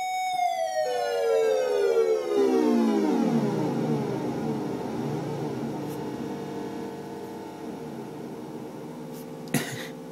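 Circuit-bent three-tone chime doorbell oscillating alone, a continuous electronic tone with many harmonics sweeping steadily downward like a falling siren, then warbling and settling, with a brief click near the end.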